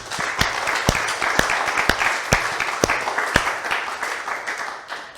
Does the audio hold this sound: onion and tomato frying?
no